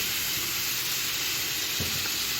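Yogurt hitting tomatoes frying in a pan, a steady close sizzle and hiss throughout, with a soft stir or clink near the end.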